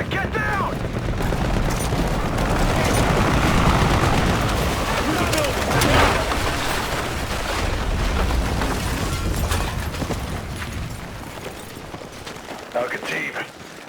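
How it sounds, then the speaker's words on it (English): Heavy sustained gunfire and booming blasts in the Battlefield 6 campaign during a night raid, a loud, continuous wall of shots and explosions that thins toward the end, with shouted voices mixed in. "Under heavy fire."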